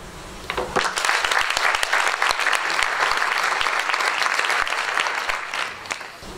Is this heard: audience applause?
yes